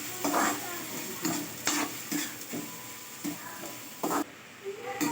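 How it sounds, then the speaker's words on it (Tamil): Stems cook with turmeric powder in a pan, a steady sizzle broken by repeated stirring scrapes and knocks of the spoon against the pan. "இப்போ தண்டு போட்டு அதில் மஞ்சள் தூள் போட்டு நல்லா வதக்க வேணும்."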